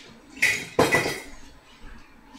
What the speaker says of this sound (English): Now stir that through